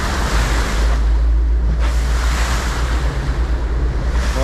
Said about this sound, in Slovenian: Ja smo že navajeni takole skakati po valovih.